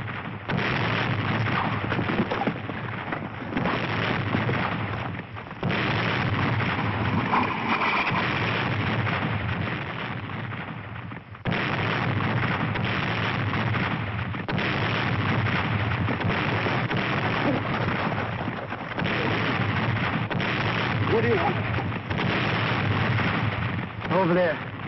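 Mortar fire and explosions in a 1966 war television drama, a dense, continuous roar of blasts and battle rumble that fills the whole scene at steady loudness with little break.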